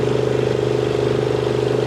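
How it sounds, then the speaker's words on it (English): An engine-driven mixing machine agitates briskly and aggressively, its motor holding a steady, loud, close drone with a constant low hum and no breaks. "that's the machine agitating there. Like there's a good brisk, good aggressive mix on it there"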